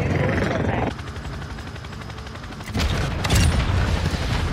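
A helicopter's steady rotor drone in Call of Duty fills the scene, joined partway by louder bursts and booms of distant gunfire.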